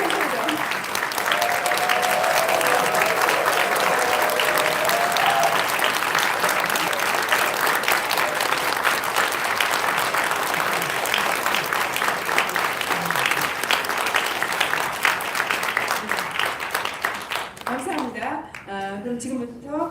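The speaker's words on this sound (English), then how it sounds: "just make a big hand of applause before it starts" Sustained applause from a lecture audience fills the room, dense steady clapping for many seconds before tapering off, with talking emerging near the end.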